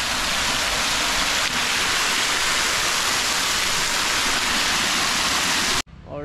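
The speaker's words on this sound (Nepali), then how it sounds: "सो यहाँनिर चाहिँ पानीको फोहरा रहेछ, देख्न सक्नुहुन्छ" Water fountain at Bindhyabasini temple in Pokhara, a steady, loud broadband rush of falling and splashing water filling nearly the whole stretch before cutting off abruptly near the end.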